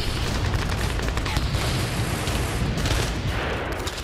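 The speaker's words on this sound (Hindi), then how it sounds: "वेस्ट बैंक में हमास के ठिकानों पर इजरायली फोर्स ने भीषण धमाके किए" Israeli forces striking Hamas positions in the Qalqilya area of the West Bank: a loud, unbroken barrage of rapid gunfire and heavy booms with a few sharper, stronger blasts.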